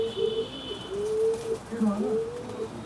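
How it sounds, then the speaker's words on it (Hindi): A flying pigeon held in the hand gives soft, low, repeated coos close by, with faint rustling and background noise throughout. "ये उड़ने वाला कबूतर है"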